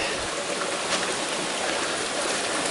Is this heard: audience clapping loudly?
no